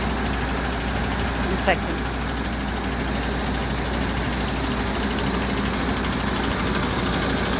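Tractors idle in a steady, low engine drone at a fuel protest in Mallow, County Cork, some of them turning around, with the rumble running the whole time and a voice briefly heard over it.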